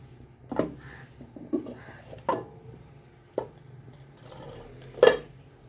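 A lid goes onto a cooking pot while pitha is being made, heard as a few separate metallic clanks and knocks spaced out over a few seconds, close up in a quiet room with no talk.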